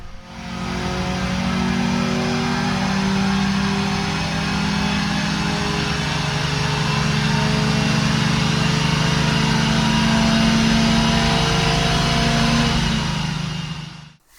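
A Mazda Miata engine running on a dyno with an extra-long 36-inch intake, loud and steady at high revs for about fourteen seconds with a droning tone, then cutting off abruptly.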